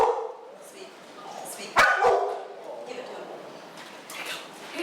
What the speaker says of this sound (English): If he doesn't bark right off the bat, the command for that is speak.